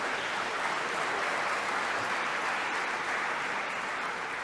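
Audience applause from a crowd at a minister's speech, a dense, steady wash of clapping that holds evenly throughout, fairly close and without any voices.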